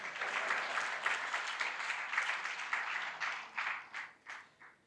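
Audience clapping in a hall at a Tanzanian government event after a deputy minister's address: dense applause for about four seconds, tapering into a few scattered claps at the end.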